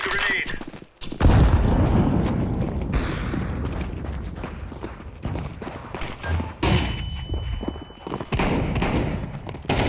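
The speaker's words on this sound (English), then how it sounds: "Throwing a grenade." Counter-Strike 2 gameplay with a grenade throw amid dense gunfire, booms and thuds, loud and continuous with a brief lull.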